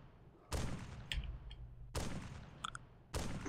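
Gunshots in the video game Wasteland, three loud sharp blasts spaced about 1.5 seconds apart, each decaying with a rumbling tail and faint clinks in between.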